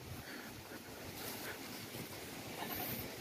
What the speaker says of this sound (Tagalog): Medyo malakas yung ihip ng hangin.